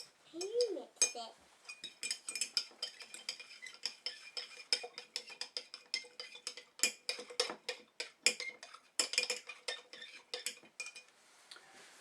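Washing liquid being stirred into a mixture in a container for elephant's toothpaste, with quick, irregular clinks and scrapes of a utensil against the vessel, close and fairly loud, with brief voices at the start.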